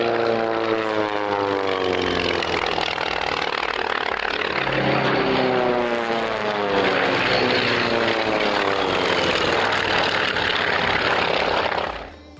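A stream of US propeller bombers passes overhead in wartime, a loud, continuous multi-engine drone with throbbing, shifting pitch that holds for about twelve seconds before cutting off, no voices.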